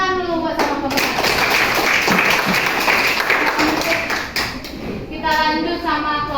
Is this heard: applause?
yes